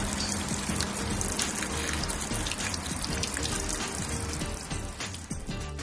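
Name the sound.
water from a tap filling a levelling tube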